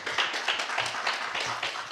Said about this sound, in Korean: 발표 박수로 다시 한번 환영해 주시기 바랍니다